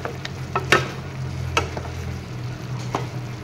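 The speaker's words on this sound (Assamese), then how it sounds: "এনেদৰে তলপৰ কৰি মই লৰাই দিছোঁ" Chicken and taro stems are stirred in a pan, releasing their juices, with a low continuous sizzle and a few sharp clinks and scrapes as the utensil turns the pieces over.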